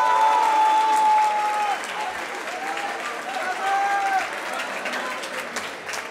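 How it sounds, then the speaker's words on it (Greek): Steady audience applause at a Greek gaming event for a young gamer, sustained for several seconds with a host's voice speaking over the clapping. "Ένα τεράστιο χειροκρότημα για τον Καρπούζι Φέτα Γκέιμινγκ."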